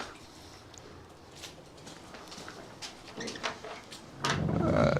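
Pigeons in a breeding loft give soft, low coos and rustles, faint and intermittent at first, then a fuller, closer cooing swells near the end.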